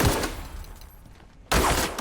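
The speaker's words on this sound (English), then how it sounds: "Oh, he just shot me." Gunfire in The Outer Worlds, an enemy shooting at the player: a burst of shots at the start, a quieter stretch, then another loud burst of gunfire that continues to the end.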